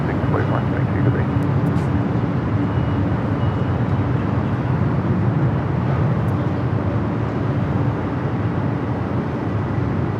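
A Delta Boeing 767-300ER departs LAX bound for Honolulu, its jet engines producing a loud sustained rumbling roar that stays fairly even across the span, with voices faintly present.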